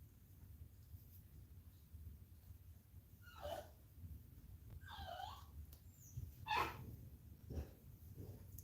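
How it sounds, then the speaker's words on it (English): A puppy barks and yelps a few times in the background of a quiet indoor room, with short, faint bursts spread out over a low steady hum. "You hear my puppy in the background?"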